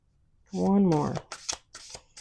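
Oracle cards are shuffled in a few quick papery riffles and slaps, quiet and close, after a short spoken word.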